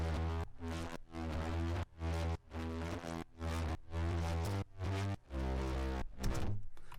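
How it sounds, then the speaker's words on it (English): A layered boom effect built in Ableton with vinyl distortion hits about eight times in a steady rhythm, each boom deep and full with a short gap of silence between. "I just grabbed in this boom sound"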